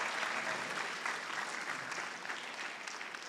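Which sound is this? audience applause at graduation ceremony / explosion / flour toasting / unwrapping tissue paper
audience applause at graduation ceremony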